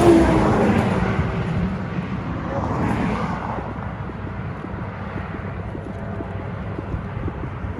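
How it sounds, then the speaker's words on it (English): Trucks passing on a windy highway near Duchesne, Utah, heard as a loud rushing roar that swells and fades over a steady background of heavy wind buffeting the microphone. "That's almost all truck traffic."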